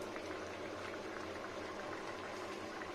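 Dal with egg and poppy seed simmering in a pot, a steady close bubbling and hissing boil that runs evenly throughout with no talking.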